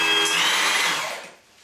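A HYTORC Smart Stud tool sleeve turns on a bolt, making a loud whirring mechanical drive noise that holds steady and then winds down and fades as the sleeve stops.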